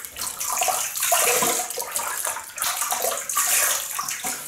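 Tap water runs steadily and loudly into a basin, splashing as a face is wetted before a wet shave, continuous throughout with no talking.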